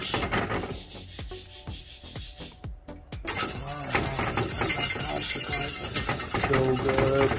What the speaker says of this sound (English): to whisk it a little bit while it's heating up, getting all that yummy flavor all broken down